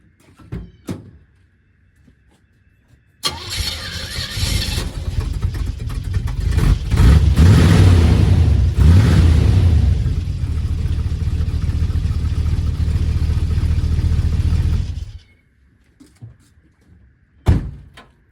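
A door thunks, then a 1978 Oldsmobile Cutlass engine with the muffler cut off starts and revs loudly with a raw, unmuffled roar for several seconds before cutting off, followed by another thunk.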